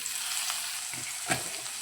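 Bitter gourd and pumpkin pieces with salt and turmeric fry in a covered pan, giving a close, steady hissing sizzle with one brief stirring clatter near the end.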